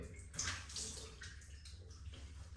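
Water is scooped by hand and splashed during wudu ablution, a faint, close wet sloshing with soft splashes and trickles, no speech.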